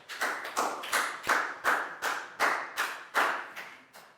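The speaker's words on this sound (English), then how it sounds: "Big round of applause." A classroom of students gives a round of applause: about a dozen sharp, evenly spaced claps ring out close and loud, with no talking over them.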